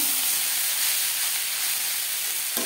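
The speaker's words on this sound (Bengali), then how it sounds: "সবজির সাথে ভাত বেশ ভালো করে মিক্স করে দেবো।" Leftover rice being stirred together with vegetables in a hot pan over a low-to-medium flame gives a steady, close hiss and sizzle that barely varies, then dips briefly just before the end.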